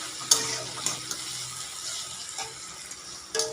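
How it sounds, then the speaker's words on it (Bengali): Tomato, garlic and ginger fry in a pan with a steady, soft sizzle, broken by a few sharp clinks and stirring scrapes near the start and the end. "লাল করে দেখো সব ভাজা হয়ে গেছে"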